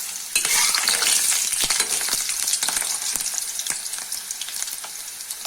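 Potato pieces fry in a pan of hot oil for a pork dish, a steady bright sizzle broken by frequent scraping stirs and small clinks close up, with no voices.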